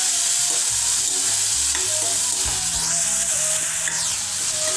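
Onions sautéing in a pan for a mushroom pepper fry, a continuous close sizzle with occasional stirring scrapes and clinks of a spoon against the pan, and no voices.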